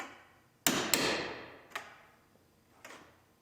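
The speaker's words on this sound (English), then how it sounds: "We're going to knock the centers of the rivets" Four sharp metallic hammer strikes knocking out rivet centers in the upper door trim of a 2017 GMC Terrain Denali, two in quick succession and then two more spaced out, each ringing briefly before dying away.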